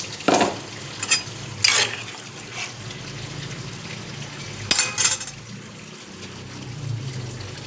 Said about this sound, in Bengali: আমার একটু জলটা দিচ্ছি কারণ আমার ছেলেদের একটু ঝোল টাইপের ভালো লাগে ওদের।